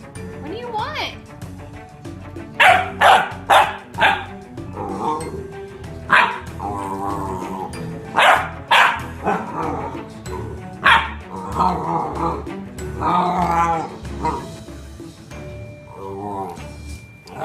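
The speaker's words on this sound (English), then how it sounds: "Brutus, what are you barking at?" An English Bullmastiff puppy barks in loud, repeated bursts, close by, with short pauses between, while a person talks over and between the barks.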